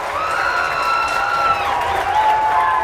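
Home crowd cheering and shouting at a Central York high school football game, a steady, loud wash of voices with whistle-like tones over it, lasting throughout with no clear breaks.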